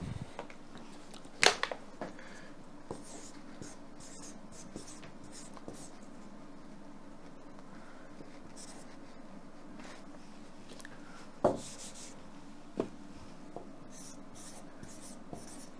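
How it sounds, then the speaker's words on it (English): Pen scratching across paper in steady strokes while someone writes by hand, close and soft, with a couple of louder taps or knocks on the desk along the way. "Let me write it down."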